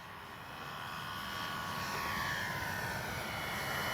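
A Dynam BF-109 RC warbird model airplane flies past with its landing flaps and retracts deployed, giving a steady, airy engine drone that grows slightly louder and then holds, with no voices.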